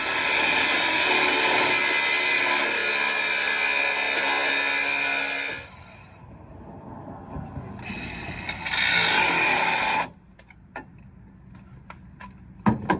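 A grinding wheel cuts a steel bracket for an OTA trackbar on a Dana 44 axle swap, letting out a loud, harsh whine for several seconds. It then falls quiet, bursts again briefly, and ends with scattered clanks.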